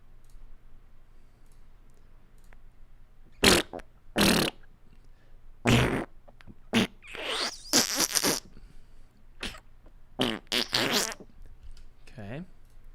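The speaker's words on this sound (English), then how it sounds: "Let's add a fart sound in there." Cartoonish fart sound effects are added to a game level, a series of short, loud bursts of varying length with clicky edges, some sputtering and drawn out, scattered across several seconds.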